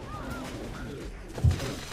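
Pigeons coo softly in the zombie video game Dead Island: Epidemic, with a few low warbling calls over game ambience and a single dull thump partway through.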